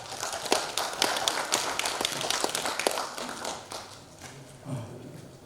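An indoor audience at a cultural centre anniversary event claps to welcome a speaker, a dense run of close, sharp claps that thins out and fades over several seconds.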